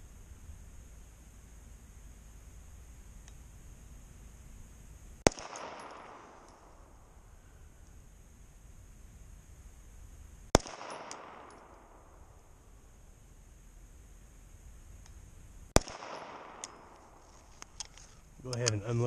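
Three sharp 9mm pistol shots from an FMK 9C1 gen 2 at a 25-yard range, evenly spaced about five seconds apart, each loud crack ringing into a decaying tail, with faint handling noise near the end.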